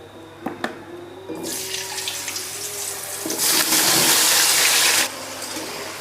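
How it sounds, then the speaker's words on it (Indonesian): Potatoes hit hot oil and burst into a loud, crackling sizzle that swells, then drops back to a quieter steady hiss. "Selanjutnya kita goreng kentang."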